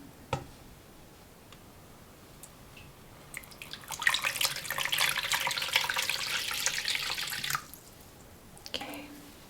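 Hot water poured into a bowl for a hand bath during a hand massage, a steady splashing pour of about three and a half seconds that starts and stops cleanly, close and fairly loud, with faint handling ticks before and after.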